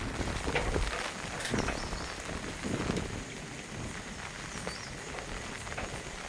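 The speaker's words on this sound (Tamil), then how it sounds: "சரியான மழை பெய்யுது போய்க்கு." Heavy rain pours steadily over flooded roads and farm fields, a dense continuous hiss filling the scene with scattered heavier splashes and no voices.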